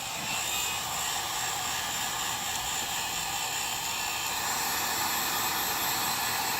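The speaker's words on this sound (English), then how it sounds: "let's hit this thing with the heat gun and see what happens then" A heat gun blows steadily on a piece of EVA foam with cuts in it, giving a continuous loud airy roar like a hair dryer that holds even for the whole stretch with no talking.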